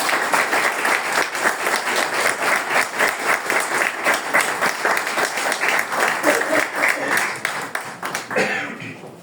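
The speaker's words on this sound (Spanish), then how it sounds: "vamos a darle un aplauso a la conferenciante" An audience applauds a lecturer after a talk on diet and health, dense sustained clapping that fills the room and tapers off at the end.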